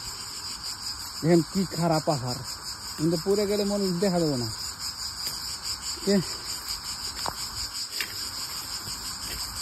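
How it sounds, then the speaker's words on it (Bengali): Crickets chirp in a dense, continuous high-pitched chorus on a hill, steady throughout while someone speaks over them in short bursts. "সামনে প্রচুর ঝিঝি পোকের ডাক শোনা যেতে"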